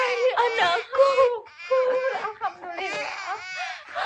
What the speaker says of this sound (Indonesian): Tiba-tiba terdengar suara tangis bayi